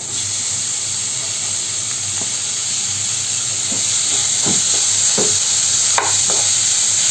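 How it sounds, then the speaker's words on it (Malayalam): A large chopped tomato drops into a hot pan for tomato rice, setting off a loud, steady sizzle and hiss, with a few soft stirring scrapes poking through. "വലിയൊരു തക്കാളി അരിഞ്ഞതാണ് ഇത് ചേർത്ത് കൊടുക്കാം"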